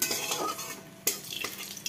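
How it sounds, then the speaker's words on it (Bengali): Steady crackling sizzle of bay leaves, dried red chillies and cumin seeds frying in hot oil, with a sharp clink of a utensil against the pan partway through. "এবার দেখো ফোড়নে দিয়ে দিলাম তেজপাতা, শুকনো লঙ্কা আর সাদা জিরে।"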